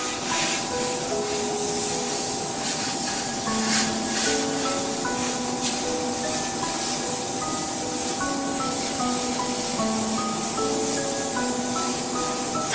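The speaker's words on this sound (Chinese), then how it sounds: "全脸喷雾5至8分钟。" The hydro-oxygen spray pen of a G882A beauty device misting toner over a face gives a continuous, even hiss that lasts the whole stretch, with background music playing beneath it.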